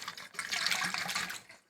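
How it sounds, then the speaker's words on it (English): Water running or pouring close by in a steady, hissy stream that lasts about a second and a half before cutting off, with no voices. "That's the sound of water."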